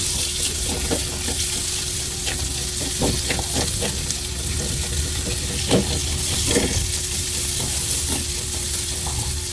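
Onions sizzle steadily in a hot frying pan for a sweet-and-sour fried fish escabeche, a constant hiss with scattered crackles and stirring clinks throughout.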